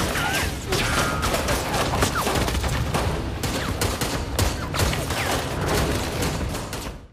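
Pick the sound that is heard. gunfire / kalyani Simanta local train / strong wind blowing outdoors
gunfire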